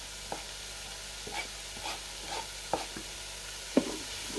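Garlic sizzles in melted butter in a pan for leek and potato soup, a soft steady frying hiss broken by a few light stirring scrapes and clinks.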